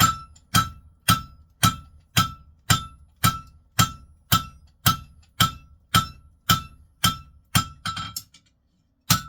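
Blacksmith hammering hot iron on an anvil to draw out a taper for tongs, about sixteen sharp ringing strikes at a steady pace of roughly two per second, loud and close, ending in silence.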